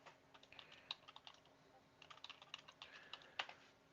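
Fast, uneven typing on a computer keyboard during a live trading session, crisp close key clicks in bursts with short pauses, fairly quiet and with no speech.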